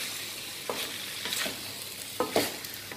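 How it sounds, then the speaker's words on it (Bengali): Vegetables frying with spices in an uncovered pan, stirred now and then, give a steady close sizzle broken by a few sharper scraping stirs. "একটু নেড়ে চেড়ে 2 থেকে 3 মিনিট আমি মশলাটার সাথে ঢাকনা ছাড়াই সবজিগুলোকে একটু ভেজে নিব"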